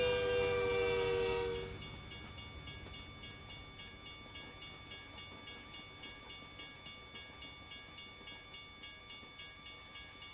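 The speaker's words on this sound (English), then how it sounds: "And I get stopped by a train." A train passes at a road crossing, opening with a loud sustained horn blast. A steady, evenly spaced clickety-clack of wheels over rail joints follows and continues at a moderate distance.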